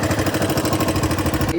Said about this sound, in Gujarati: અવાજ આખો બાઇકનો બદલાઈ ગયો છે